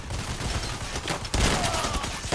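Rapid 9mm gunfire in the heist shooter Payday: The Heist, loud bursts of shots crowding together in a chaotic firefight with a sharp rise in intensity partway through.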